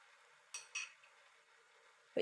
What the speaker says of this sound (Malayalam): ഇനി നമുക്കിതിൻ്റെ പച്ചമണമൊക്കെ ഒന്ന് മാറുന്നത് വരെ ഒന്ന് ഇളക്കി കൊടുക്കാം